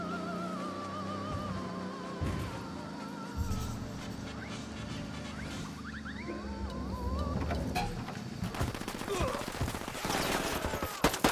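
Gunfire in Tom Clancy's Ghost Recon Wildlands, scattered shots and short bursts building toward a denser volley near the end, over game ambience and engine-like drone, with talk in the background.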